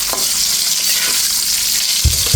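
Fried egg in a pan of hot oil during curry cooking with okra and potato, giving a dense, steady loud sizzle and crackle with a brief clunk near the end.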